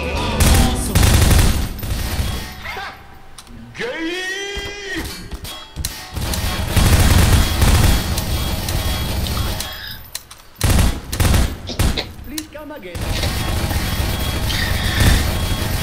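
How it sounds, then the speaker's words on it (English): Repeated bursts of gunfire and automatic weapon fire from several players in the video game Prop Hunt, loud and dense, broken by short pauses, with game noises and occasional brief voices. "They're all shooting at the. They're all trying to get him."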